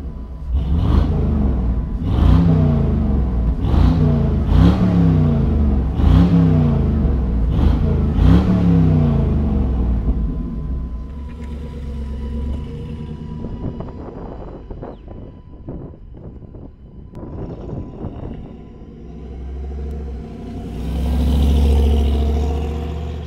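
A 1967 Chevrolet C10 pro-touring pickup with an LS Vortec V8 rumbles and revs in a steady rhythmic series of pulses, then settles into a lower, rougher idle with wind noise over the microphone.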